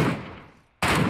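Gunfire rings out in PUBG Metro Royale. A loud burst fades away, and after a brief silence a second sharp, full-volume burst of shots hits abruptly. No voices are heard.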